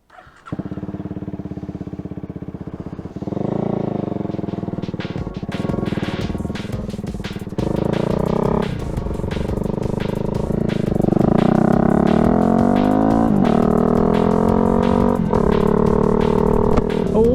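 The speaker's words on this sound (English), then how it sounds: "I am slightly worried about this exhaust being too loud for recording" A Honda Rebel 300 motorcycle with an aftermarket loud exhaust starts up and idles loudly, then revs repeatedly, its exhaust booming and crackling close by, growing louder over time with no talking.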